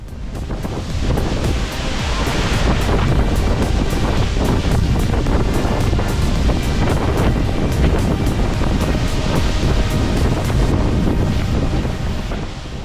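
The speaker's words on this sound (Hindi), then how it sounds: "आबशार की फुहार इतनी ज्यादा है कि करीब जाना ही मुश्किल हो जाता है" Spray and rushing water from Rijji Waterfall in Haveli District, Azad Kashmir, running at reduced flow: a loud, steady, dense roar of falling water that stays continuous throughout, with wind buffeting the microphone.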